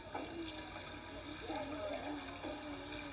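Hands being rinsed under running water from a tap at a sink, with a steady, fairly soft stream of flowing water and a voice talking over it.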